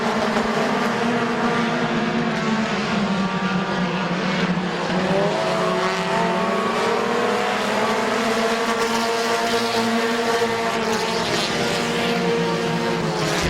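Race cars howl around Midvale Speedway, several engines droning and rising and falling in pitch as they pass, loud and continuous for the whole stretch.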